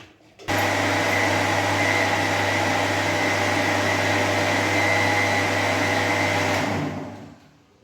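An electric mixer blender whirs as it churns cream into homemade butter, starting abruptly, holding a loud steady motor hum for several seconds, then winding down and stopping.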